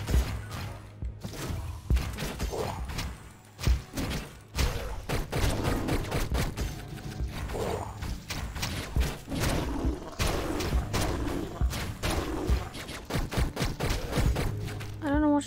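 Enemies shooting at the player in the pixel-art action game Hyper Light Drifter, a rapid string of sharp shots and thuds in irregular bursts over a low steady music drone.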